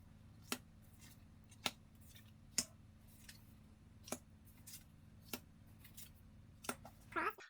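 Tarot cards are shuffled and dealt, making a series of crisp, sharp snaps and flicks spaced about a second apart against quiet background hiss, with a brief murmur of voice near the end.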